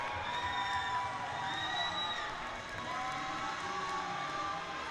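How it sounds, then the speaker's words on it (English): A college men's ice hockey crowd at Fredonia roars after a home goal, a dense sustained cheer with whoops and shouts filling the rink at steady volume. "And this crowd is loving it."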